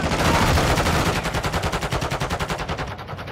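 Loud automatic gunfire in the video game Warzone 2, a dense sustained burst of rapid shots with an M13 rifle, close and continuous for the whole stretch without any talking.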